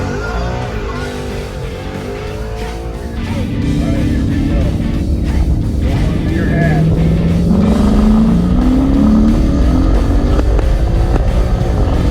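A nitrous-equipped car engine accelerating hard, a loud rising roar whose pitch climbs steadily as revs build, growing in volume after the first few seconds and staying intense to the end.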